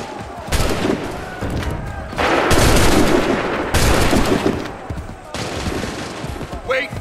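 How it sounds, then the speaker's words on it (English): Massed musket volleys crack out in bursts in Assassin's Creed 3, loud dense gunfire in repeated waves with brief lulls between, battle noise filling the gaps. "Open fire!"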